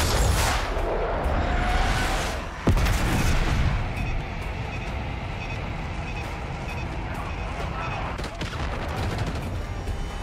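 Explosive launch blasts and heavy gunfire crash through a loud Call of Duty: Black Ops 6 firefight, with a sharp missile launcher shot near the middle and sustained rumbling battle noise before and after.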